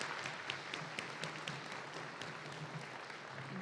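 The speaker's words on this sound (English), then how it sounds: "if everyone could give them a round of applause" Applause from an audience honoring attendees at the Riverland Energy annual meeting, a steady, faint wash of clapping heard from a distance.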